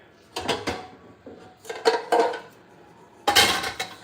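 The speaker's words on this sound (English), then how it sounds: "I'm going to go ahead and get my pan out." Metal pans clatter and clank as they are pulled out of a kitchen cupboard, coming in three close bursts of rattling with quiet pauses between them.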